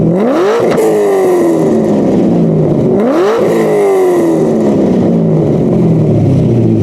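A Corvette with a Borla axleback exhaust, otherwise stock, revs hard twice, each pull climbing sharply in pitch and then falling back with a loud, raspy roar that stays up close.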